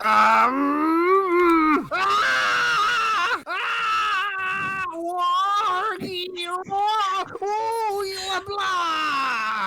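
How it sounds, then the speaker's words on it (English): Von Karma's drawn-out, tortured scream from the Phoenix Wright: Ace Attorney video game, a loud wavering groaning wail like a bleating goat, rising and falling in several long cries for nearly ten seconds. "I'd recognize that tortured goat noise anywhere."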